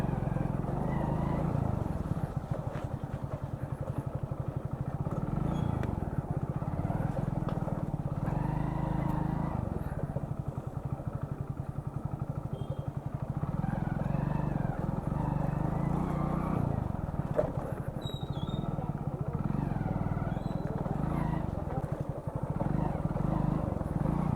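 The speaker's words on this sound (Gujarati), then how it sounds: "મજા આવે પણ પાણીમાં ચલાવવાની બાઈક" A motorcycle engine drones steadily at close range through a long off-road ride, partly through water, with a rough low hum, occasional clatter and slight shifts in pitch, and no clear talk.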